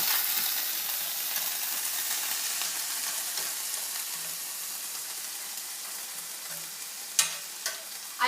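A tablespoon of water hits a hot pan of kale and tomatoes, giving a steady soft hiss and sizzle that fades slowly, with a few sharp clicks near the end and no talk.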